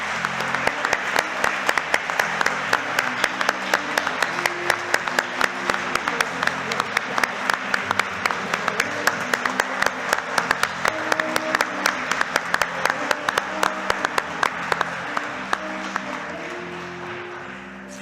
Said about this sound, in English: So please give a round of applause for Manchester Outreach Medics.